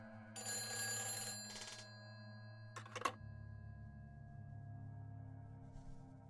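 A telephone in the Silent Hill 4 video game rings in two bursts, loud and close, followed by a faint hum and a short click-like sound.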